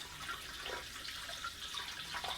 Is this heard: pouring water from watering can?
yes